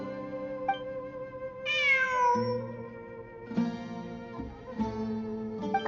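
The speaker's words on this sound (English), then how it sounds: "I'm not hearing things. It really is a cat." Cat meowing in the game Genshin Impact, a few clear drawn-out meows with a higher rising call among them, close and distinct over a soft music bed.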